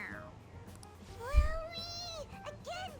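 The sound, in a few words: cat meowing in Persona 5 Royal video game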